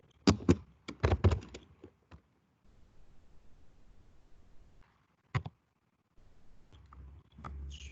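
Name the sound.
typing on a computer keyboard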